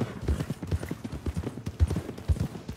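Horse hooves clip-clopping in the video game Red Dead Redemption 2, a steady close rhythm of thudding hoofbeats at walking pace throughout.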